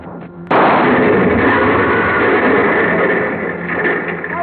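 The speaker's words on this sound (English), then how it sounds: "The car went up in a blast of powder and gasoline" A sudden loud blast erupts after a brief quiet moment, followed by a sustained roaring rumble that slowly tapers off, as a Buick car explodes in a gunpowder and gasoline blast.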